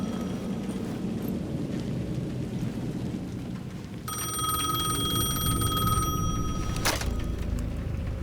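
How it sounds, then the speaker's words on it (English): A payphone at the edge of a plaza in the video game Alan Wake 2 rings in a repeated electronic trill, coming in midway and cutting off, over steady heavy rain and rumbling thunder. "payphone at the edge of the plaza was ringing again."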